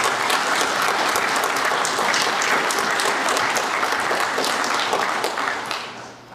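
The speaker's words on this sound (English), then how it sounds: "Please join me in a round of applause for the TAC officers, academic instructors, support staff," Sustained applause at an Army warrant officer graduation ceremony, a large audience clapping loudly and evenly for about six seconds before it fades out.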